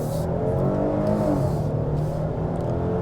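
A 2025 Hyundai Palisade Calligraphy AWD three-row SUV accelerates hard, a steady engine drone and whir heard from inside the cabin, loud and continuous with no talk.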